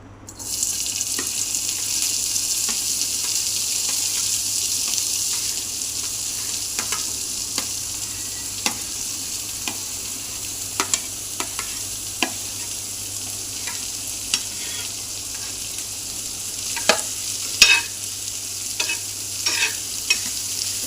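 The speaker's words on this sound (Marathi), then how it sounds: "इथे पॅन गरम करायला ठेवलं होतं, त्याच्यात तूप टाकलेलं आहे. तुम्हाला वाटलं तर तुम्ही तेलही टाकू शकता. आता याच्यावर आपण टाकूयात कॉर्न." Corn kernels fry in ghee in a hot pan, with a continuous close sizzle and scattered scraping and clicking from stirring throughout.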